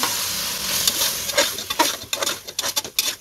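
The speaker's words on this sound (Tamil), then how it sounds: "இப்போ நம்ம ஊற வச்சுருக்க கறியை இப்போ இதில் சேர்த்துடலாம். நல்லா மிக்ஸ் பண்ணி விட்டுருவோம்." Marinated beef for a beef gravy is stirred into frying onions in a hot pan, with a spoon scraping and clinking in quickening strokes over a steady sizzle.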